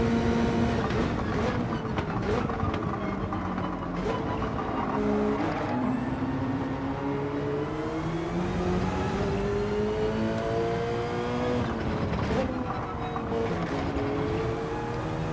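A Subaru BRZ race car lapping a circuit during a race, its engine droning and rising in pitch through gear changes, loud and close, with rival cars audible around it.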